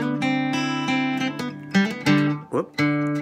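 An acoustic guitar plays a riff, a run of plucked and strummed notes with a varied rhythm, close and clear with no talk.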